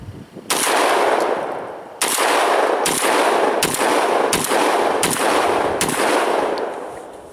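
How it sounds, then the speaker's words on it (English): Mossberg 930 12 gauge semi-automatic shotgun firing buckshot loads, six loud, sharp blasts spaced roughly a second apart, each with a ringing tail, outdoors with no talking. "Very soft shooting. Obviously it's a 12 gauge, so it's coming straight back at you."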